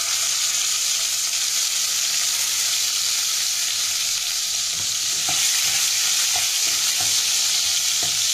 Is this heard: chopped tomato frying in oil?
yes